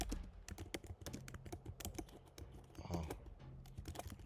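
Two-finger typing on a computer keyboard, close and fairly quiet: irregular clusters of sharp key clicks with uneven pauses between them, and a soft short exclamation heard once.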